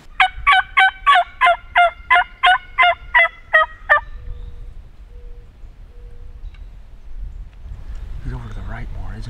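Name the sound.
wild turkey gobbling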